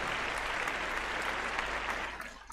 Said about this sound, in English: And a big round of applause for Mana.